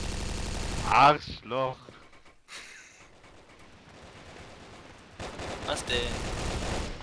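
Machine-gun fire from a mounted gun in the video game Brick Force, rapid bursts at the start and a rattling stretch near the end, with people shouting over it.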